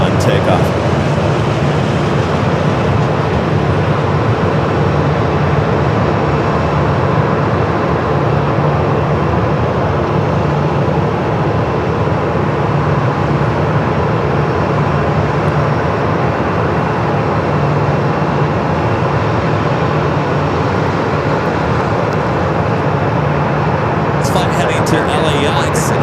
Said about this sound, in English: WestJet 737 heading over here for Southside takeoff.